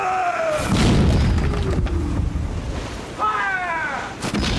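Ship's cannons firing during a naval battle, heavy booming blasts rolling over wind and surf, with shouted voices rising in the background.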